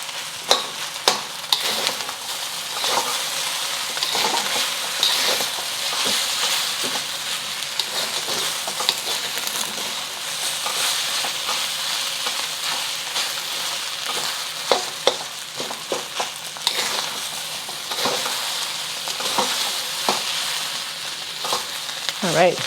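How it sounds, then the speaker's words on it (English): Fried rice with eggs is stirred in a hot pan, a continuous sizzle with repeated scraping knocks and clatters of the utensil against the pan, close up and without talk. "Let us stir."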